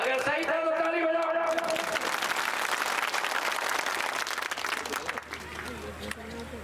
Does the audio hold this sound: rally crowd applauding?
yes